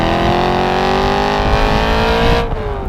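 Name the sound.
BMW E92 M3 naturally aspirated V8 engine revving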